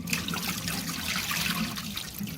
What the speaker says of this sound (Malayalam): കൂണ് നമ്മളിപ്പോൾ നന്നായിട്ട് കഴുകിക്കൊണ്ടിരിക്കുന്നതാണ് കാണുന്നത്